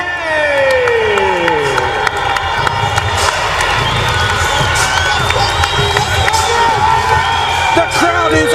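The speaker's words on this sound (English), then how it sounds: "The crowd is on their feet here in Oklahoma City" A packed Strikeforce MMA arena crowd in Oklahoma City cheers and roars loudly and continuously, with whoops and shouts rising throughout and a voice carrying over the din.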